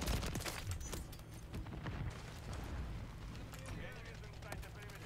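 Dense, continuous video game gunfire with SMG bursts and explosions fills the whole stretch, steady and loud, with a player's voice talking over it.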